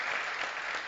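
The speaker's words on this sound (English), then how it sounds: "A round of applause for her." An audience at a closing session applauds a training manager, steady dense clapping heard briefly and fairly close.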